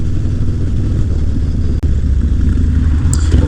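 A Harley-Davidson FXR motorcycle engine runs in a steady, full low rumble throughout, close and loud, with no voices.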